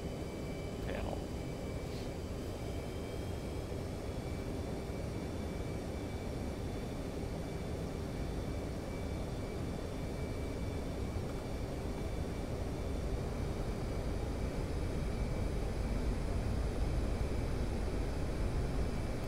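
An F-15 jet engine in the DCS flight simulator game roars as a steady, loud, broadband drone with a faint whine through the whole takeoff run, growing slightly louder near the end.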